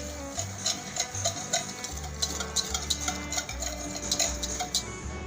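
Oil and milk are stirred together for an eggless custard cake batter, with a utensil scraping and clinking steadily against the bowl in an irregular rhythm, close and fairly loud, with no talking.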